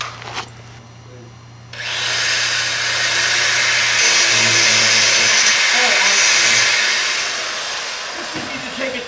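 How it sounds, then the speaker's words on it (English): A 4-inch angle grinder with a flap disc is grinding metal during tractor hydraulic top link work. It starts up after a low idle hum and then holds a loud, sustained, close high whine that eases slightly toward the end. "we're just going to take a disc on a 4-inch grinder."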